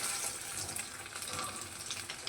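A battered chicken and banana-flower cutlet, dipped in egg, slips into hot oil in a kadai, raising a soft, quiet sizzle with light bubbling that holds for a couple of seconds, ending in a small clink.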